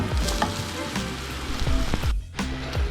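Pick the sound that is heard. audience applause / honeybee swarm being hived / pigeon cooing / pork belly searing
pork belly searing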